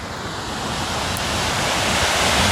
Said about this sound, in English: this is a little waterfall on the drive that is free to look at